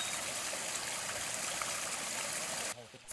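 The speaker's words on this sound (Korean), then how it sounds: "이 도심 속에 이 물소리가 들리니까 이 좀 힐링이 되네" Water flows in a steady, broad rushing stream at an urban apartment complex, continuous and fairly near, cutting out abruptly near the end.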